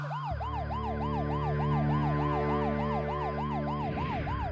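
Ambulance and police sirens wailing together, a loud continuous rising-and-falling tone over a low engine drone, starting abruptly and fading toward the end.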